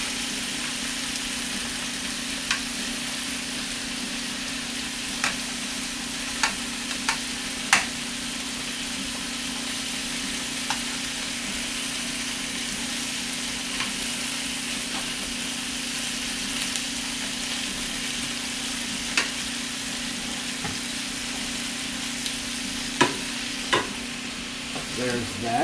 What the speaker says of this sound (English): And just slosh them around here in the pan.